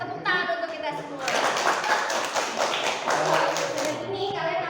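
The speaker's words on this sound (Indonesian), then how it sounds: "tepuk tangan untuk kita semua" A classroom group claps together during a poultry health lesson, a dense burst of hand claps that starts after a brief voice and runs steadily for several seconds at a close, fairly loud level, with voices mixed in.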